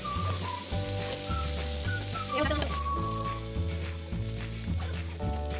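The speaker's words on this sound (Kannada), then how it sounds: "ಅಷ್ಟು ಮೀನು ಹಾಕ್ಬಿಟ್ಟಿದ್ರು ನಮ್ಮಮ್ಮ ತವದಲ್ಲಿ" Fish frying on a hot tawa in a home kitchen crackles and hisses continuously, a dense sizzle running underneath louder background music throughout.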